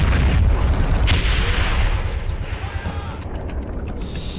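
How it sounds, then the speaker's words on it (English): A StuG assault gun shells a building in the Stalingrad battle game Men of War, with heavy booming artillery fire and rumbling explosions loud at first, then a dense low roar that eases slightly. "I've got another Stug pounding that building"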